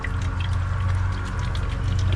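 Vinegar at 30% strength pours steadily into a weed killer sprayer, a continuous close gurgling stream with no break.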